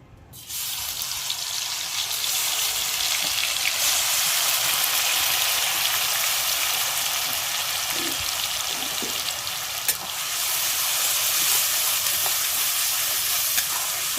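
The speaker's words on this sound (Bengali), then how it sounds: "কড়াইতে তেল গরম হয়ে গেছে। প্রথমে আমি এই বেটে রাখা মশলাটা দিয়ে দেবো।" Ground spice paste hitting hot oil in a kadai for Dhaba-style chicken kosa, giving a loud, steady broadband sizzle that runs nearly unbroken throughout with a few faint clinks and stirs, no voices.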